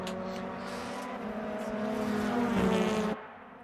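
BTCC touring cars race at Donington Park in the rFactor 2 game, a tonal engine drone holding steady then building into a louder rev before abruptly cutting off, with a BMW among the cars.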